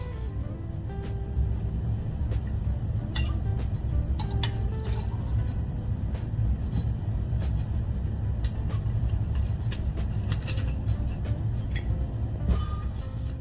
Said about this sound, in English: This is going to be 2 ounces, so you always want to do about a 2-ounce pour.